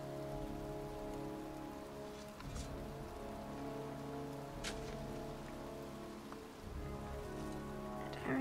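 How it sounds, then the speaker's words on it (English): Steady rain pours down in the Heavy Rain video game on PS4, a constant dense hiss with a low droning hum underneath and occasional faint clicks, no voices. "It's cold. It's raining. I'm standing outside getting soaked."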